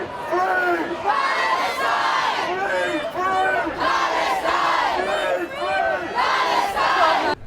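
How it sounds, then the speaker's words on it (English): Protesters chanting outside Downing Street against the Netanyahu visit, loud rhythmic crowd chants repeating in waves, a large group of voices close and echoing. "the same chants echoed in this protest outside Downing Street"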